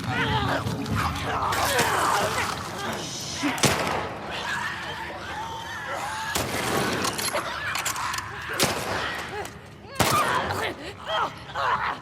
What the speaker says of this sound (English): The gunplay this time around is just intense. The shooting, the sound design for it,